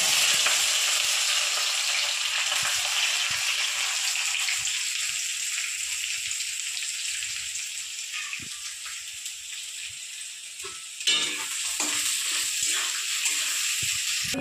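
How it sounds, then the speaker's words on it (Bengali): Onions frying in hot oil in a wok, a steady loud sizzle crackling throughout with occasional stirring clicks and a brief scrape near the end, no talking. "কড়াইতে তেল গরম হয়ে গেছে। এবার আমি পেঁয়াজটা ভেজে নেব।"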